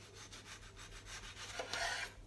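A knife saws through a mango close to its flat stone, giving a faint, close rhythmic rasping of slicing strokes in a quiet kitchen.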